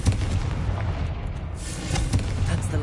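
A Confringo spell explodes in Hogwarts Legacy, a booming burst over steady low game rumble, with further muffled blasts following through the short stretch.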